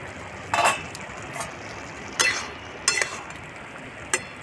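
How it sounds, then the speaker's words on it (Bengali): A lid comes off a cooking pot of ridge gourd and potato, several sharp metallic clinks and scrapes spaced out over a few seconds against a quiet background. "ঢাকাটা খুলে দেখি"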